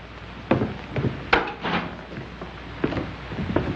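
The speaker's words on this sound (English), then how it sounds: "Riley, take the door." A door opened in a 1938 American crime film: a few dull wooden knocks and clicks of the latch and panel, close but thin and slightly muffled by old-recording hiss.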